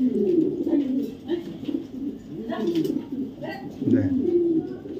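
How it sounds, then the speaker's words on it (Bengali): Silver fantail pigeons coo repeatedly, low rolling throaty calls that come and go through the whole stretch, close by and fairly steady, with a voice mixed in among them. "এই যে পাঙ্খি চলে আসছে, চলে আসছে সিলভার র পাঙ্খি কবুতর"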